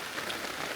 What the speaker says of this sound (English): The rain is finally starting to let up.